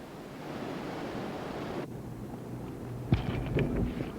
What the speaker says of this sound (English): Water cascading from every corner of the state.